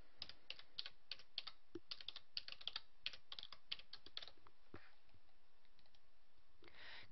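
A password is keyed in on a computer keyboard, a run of quick, light key clicks close up in an uneven rhythm that trails off into a pause and a final soft tap.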